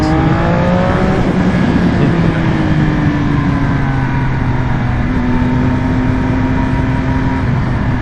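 A 2020 Triumph Speed Triple RS motorcycle engine accelerating through the gears, a loud continuous rising roar with pitch climbing and dropping at shifts, close and alone.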